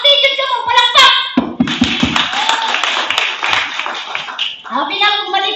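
A church congregation claps together at a Sunday service, a burst of hand claps running for several seconds between stretches of a preacher's loud voice.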